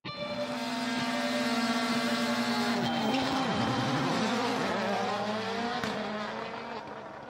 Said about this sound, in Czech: auta se všechna najednou rozjela